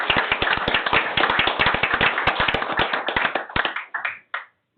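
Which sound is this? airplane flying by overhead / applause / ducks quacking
applause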